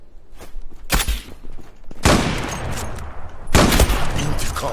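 Several loud gunshots in quick succession in the online shooter game Zula, sharp bursts with rumbling tails, punctuating a noisy game soundscape with faint voices underneath.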